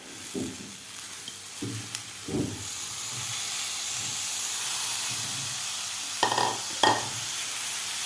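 Sprouted masoor lentils being stirred into masala in a pan over medium heat: soft continuous sizzle with repeated scraping spoon strokes and a couple of sharper clanks near the end, no voices.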